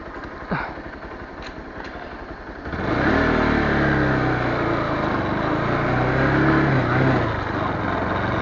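A motorcycle engine idling with a low chug, then revving up sharply into a loud, sustained roar that holds steady for the rest of the moment.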